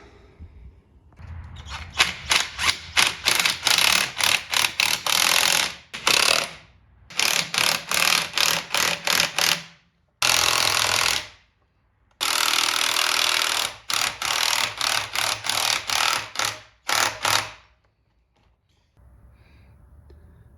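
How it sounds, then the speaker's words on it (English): A wire brush, likely power-driven, scours a Farmall tractor pedestal before repainting, running in loud harsh bursts of one to three seconds separated by short pauses. "We'll wire brush that"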